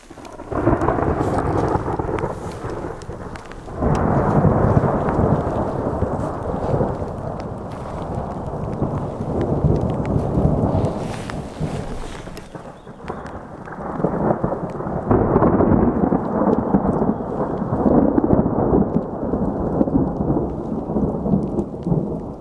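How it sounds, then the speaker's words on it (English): Thunder rumbles over steady rain in a forest during a thunderstorm, deep rolling bursts swelling and fading several times, loud and close, with no voices. "that thunder's getting a little menacing."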